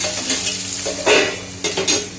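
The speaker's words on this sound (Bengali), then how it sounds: "বেশ পেঁয়াজ পটল সমস্ত দিয়ে দিয়েছি, যেন ভাজা ভাজা হয়ে যাবে" Onion and pointed gourd frying in a pan, with a steady sizzle and a few louder bursts as the vegetables are stirred and scraped, and no voices.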